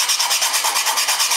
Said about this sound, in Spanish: siguen lijando